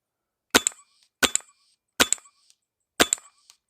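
A Lightning Strike Fieldmaster 2000 air gun fired four times in steady succession, each a sharp close crack followed by a quick metallic echo and a brief ring, with silence between shots.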